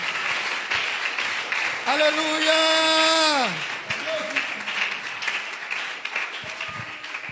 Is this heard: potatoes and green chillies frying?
no